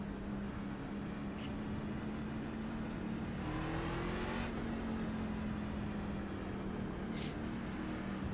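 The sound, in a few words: racing truck engine revving, iRacing video game at Phoenix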